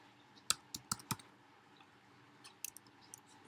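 Password keys tapped on a computer keyboard while setting up a Windows Server 2012 user account: a few quick, close clicks in two short bursts separated by a pause, in an otherwise quiet room.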